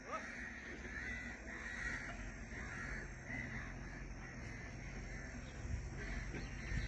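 Crows cawing repeatedly at a distance over a steady outdoor background, the calls overlapping in an irregular chorus.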